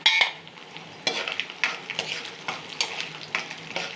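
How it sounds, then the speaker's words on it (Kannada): Dry red chillies and tamarind frying in oil in a pan, giving a steady sizzle broken by repeated stirring scrapes and clinks at a moderate, uneven rhythm, close up and with no voices. "ಸ್ವಲ್ಪ ಹುಣಸೆಹಣ್ಣು ಎಣ್ಣೆಲಿ ಈ ಥರ ಫ್ರೈ ಮಾಡಿದ್ರೆ ಚೆನ್ನಾಗಿರುತ್ತೆ."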